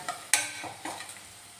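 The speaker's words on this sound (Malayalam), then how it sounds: "ഈ പൊടിയുടെ പച്ചമണം മാറുന്നിടം വരെ ഒന്ന് ഇളക്കിയെടുക്കണം" Turmeric and chili powder stirred in a frying pan, with a sharp utensil scrape followed by a few softer stirring strokes over a faint sizzle, close and quiet.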